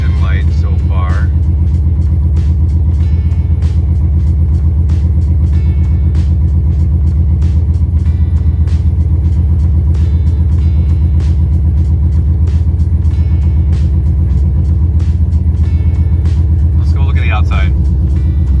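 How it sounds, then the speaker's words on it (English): A car with a swapped LS1 V8 engine idles with a deep, steady, loud rumble and a fast even ticking throughout, while a couple of brief voices speak over it. "The car is at least idling."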